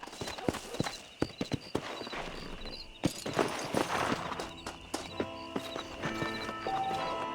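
A horse walks in Red Dead Redemption, its hooves clopping in an uneven, unhurried rhythm close by, with game music and ambient tones underneath.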